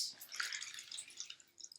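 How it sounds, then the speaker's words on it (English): Water dripping and splashing as hands are washed in a basin, a light irregular patter of drops close by and fairly quiet, with no talking. "Washing my hands to go to eat"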